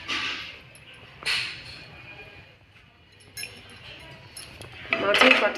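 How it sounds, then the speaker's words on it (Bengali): A spoon stirs patishapta batter in a bowl, giving a few soft clinks and scrapes against the rim over a quiet room, with brighter taps near the start and the end. "ব্যাটারটা তৈরি হলো কিনা একবার নাড়িয়ে দেখে নিয়ে শুরু করতে হবে"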